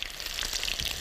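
Potatoes frying in hot oil in a home kitchen, a bright continuous sizzle with crackling pops, close and steady over a short moment, no talking.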